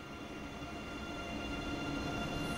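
A train in the simulator game Train Sim World 2 gives a steady, dense rumble with a whining electric hum, continuous and fairly loud, heard from aboard with no talk.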